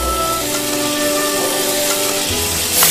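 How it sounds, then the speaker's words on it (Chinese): Shrimp and seasonings hit a hot wok over a low flame for Sichuan fish-fragrant minced shrimp, giving a steady, close sizzle and hiss that runs throughout with no talking. "虾下锅，配料下锅"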